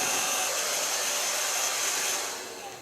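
A hair dryer runs steadily close by while blow-drying a bob haircut, a loud continuous airy roar that holds level and then eases off near the end.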